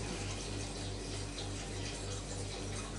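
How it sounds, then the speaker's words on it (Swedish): Beer pours steadily from a bottle into a glass, a continuous splashing fill with a faint low hum underneath. "Lägger kapsylen åt sidan och häller upp där."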